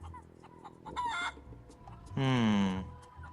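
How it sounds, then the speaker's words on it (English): A feral chicken on Plunder Island in the video game The Curse of Monkey Island gives a short cluck, then a longer drawn-out crowing squawk, clear over a quiet game background. "Plunder Island feral chicken, one of Plunder Island's most common fauna"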